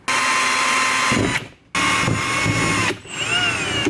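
A loud power drill whines as its bit cuts sideways through a plastic car bumper on a Mustang, running in long bursts with two brief pauses.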